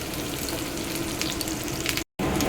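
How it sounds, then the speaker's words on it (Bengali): An egg omelette fries in a pan, giving a loud, steady, close sizzle with crackling spatter throughout, broken only by a brief silent cut near the end. "এবারে ডিমের অমলেট করছি, এটাকে কেটে কেটে দিয়ে দেবো।"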